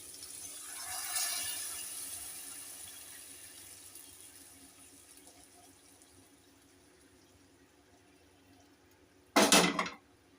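Boiled mung dal cooked with a fish head is stirred in a pot: soft, wet swishing fades over several seconds, then the spoon knocks against the pot in a brief, loud metallic clatter.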